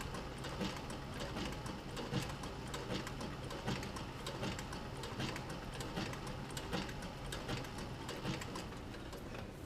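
A sewing machine stitches leather for a camera bag, running a rapid, even mechanical clatter of needle strokes at moderate volume without a break.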